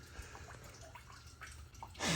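Coolant draining from a Nissan 370Z engine, a faint, steady trickle with scattered drips, quiet throughout, before a louder rush of liquid near the end.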